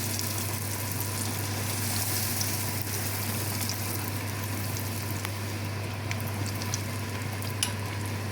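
Sfenj dough deep-frying in a pot of hot oil, a steady dense bubbling sizzle with a low constant hum and occasional tiny pops, unbroken for several seconds.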